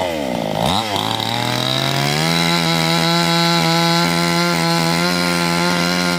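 A chainsaw revs up and then runs steadily at high speed while cutting down a young sheemakonna (Gliricidia) tree, loud and close, with a continuous buzzing drone and no talk.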